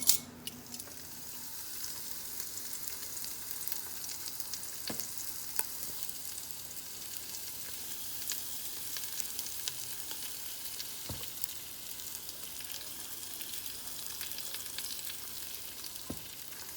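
Chicken seasoned with garlic powder, onion powder and seasoning salt sears skin down in oil in an Instant Pot on sauté, giving a steady, close sizzling hiss with a few sharp pops and clicks.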